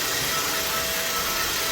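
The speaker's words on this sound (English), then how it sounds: "We're just going to keep the vacuum handy." A vacuum cleaner running steadily in a kitchen, a loud continuous whooshing drone with no talk over it.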